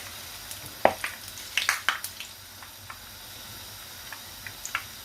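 Zalabia batter drops into hot oil for Ramadan sweets, setting off a low, steady sizzle with a few sharp crackles and pops spread through the frying, close and fairly quiet, with no talking.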